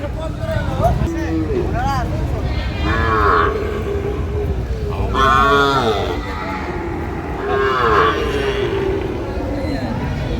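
Sahiwal bull calves moo at a cattle farm in Chattogram, several loud, drawn-out calls rising and falling one after another, while people talk nearby.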